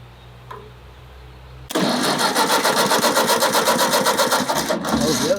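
A farm tractor's engine cranks and catches, then settles into a loud, steady, throbbing idle close by.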